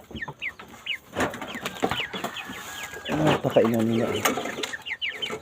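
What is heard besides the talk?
chickens clucking while being fed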